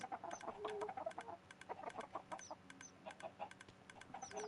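Busy flock of Minecraft chickens clucking in repeated short bursts, several birds overlapping at moderate loudness with no voices over them.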